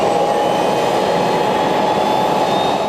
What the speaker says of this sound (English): We take the jet-powered S-10 called the Retro Rocket out on nearly empty Highway 83.